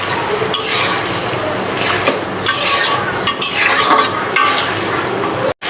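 Ground spice paste sizzles and is stirred steadily in a hot pan for a tilapia curry with plantain and potato, a loud continuous frying hiss broken by scraping strokes of the spoon against the metal.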